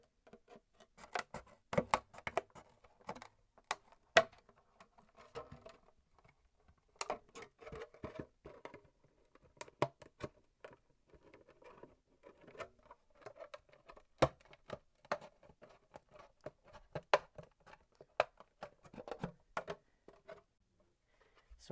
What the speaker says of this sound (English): This is one of the harder parts of cutting the wing because it is so thick.